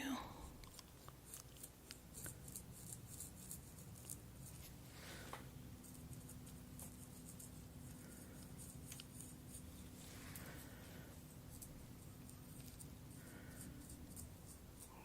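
Scissors snip in a close-up eyebrow-trimming ASMR roleplay, soft irregular clicks and snips near the microphone under a quiet hiss, with faint gentle talk at times.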